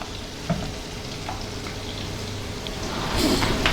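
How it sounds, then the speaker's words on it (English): Leeks and onions frying and caramelizing in a pan, a steady close sizzle and crackle with light stirring and a brief louder hiss near the end. "So the leeks and onions are starting to caramelize nicely"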